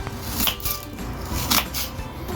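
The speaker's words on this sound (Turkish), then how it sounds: "Soğanı kabaca şöyle dört parçaya ayırmamız yeterli." A knife chops an onion into quarters on a cutting board, a few distinct close cuts spaced irregularly, with soft handling noise between.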